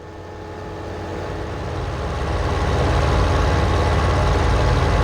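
A vehicle engine in Farming Simulator 15 rumbles steadily and swells louder as the machine pulls out onto an asphalt road, a dense, continuous low drone.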